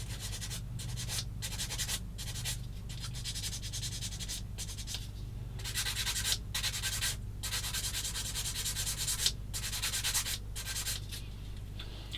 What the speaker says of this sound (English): get a sanding stick and sand across this bit I've just where I've cut it